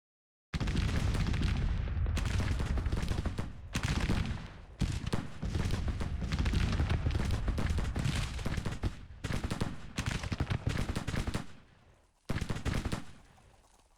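Civil War cannon and artillery fire in the strategy game Grand Tactician comes as loud, dense, rolling booms and crackling volleys that continue almost without pause, with brief gaps and no talking.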